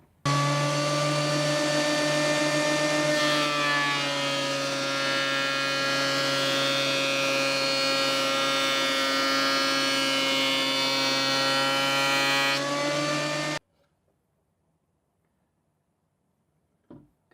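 A wood planer drones with a steady tonal whine for about thirteen seconds as a weathered board feeds through for thicknessing, then shuts off abruptly into near silence.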